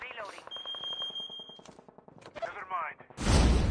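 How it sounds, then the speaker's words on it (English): Gunfire in the Call of Duty Mobile battle royale game, with rapid bursts of shots mixed with electronic game tones and a loud blast at the end, while players talk over it. "I hear a lot of shots."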